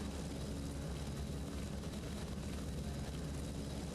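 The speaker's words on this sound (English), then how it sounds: "if this helicopter is like insanely loud in the background" Steady, heavy rotor roar of a helicopter hovering over the Zandvoort circuit in the racing game Assetto Corsa Competizione, a dense unbroken drone filling the whole stretch with no gaps.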